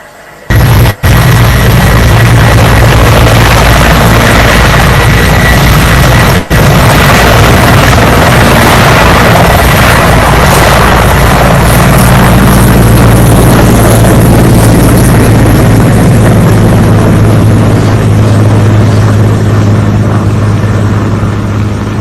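Military helicopter near a front line, its loud, steady rotor and turbine roar filling the whole stretch with no break, a couple of sharp pops or bursts cutting through early on.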